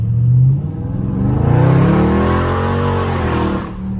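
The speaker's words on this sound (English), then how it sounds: "I just want y'all to just hear the car" A Dodge Challenger Scat Pack revs loudly in a neighborhood, its deep V8 rising and falling in a couple of throaty swells. The engine is close and dominant, with no talking.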